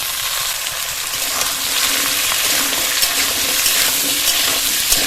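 Chopped taro and a potato go into a pan of frying onion and garlic, giving a steady, close sizzle with light stirring and clinks throughout.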